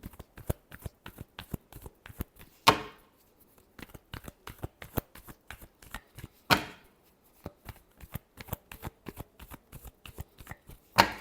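Tarot cards are shuffled by hand in rapid crisp riffles and flicks, close and fairly quiet, with a couple of louder sharp bursts standing out.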